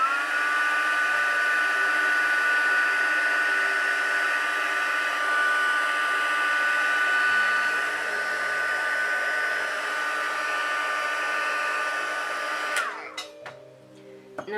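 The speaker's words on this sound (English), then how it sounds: "You can't just point your heat gun at your ear." A heat gun blows with a steady, loud whir for about twelve seconds while heat-setting prosthetic makeup on an ear, then cuts off abruptly, leaving a few soft handling clicks.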